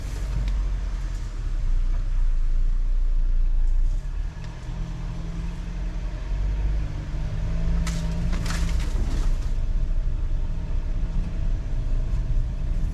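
A Ford Maverick truck drives along a narrow sandy forest road in Ocala National Forest, with a steady low engine and road rumble and occasional bumps and rattles throughout.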